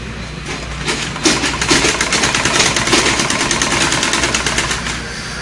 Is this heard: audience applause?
no